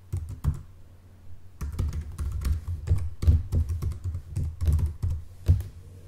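Fingers tap on a computer keyboard entering an email address, a close, crisp run of uneven clicks with brief pauses between bursts of keystrokes.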